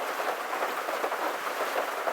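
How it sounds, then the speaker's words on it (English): Rain and wind beat steadily on the tin roof of a back porch, a dense, even hiss of drops with no pauses. "out here in the rain and the wind, even under cover of this tin roof on the back porch"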